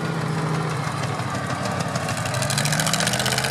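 Big old single-cylinder Bulldog tractor of about 50 horsepower idling at a rally, a steady, dense engine drone with a low throb that runs throughout, heard close and fairly loud.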